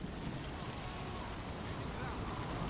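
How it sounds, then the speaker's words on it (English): Dense, steady rain hiss in Saints Row the Third fills the whole stretch, a thick even wash of noise with no pauses or distinct drops standing out. "Why is this rain so thick?"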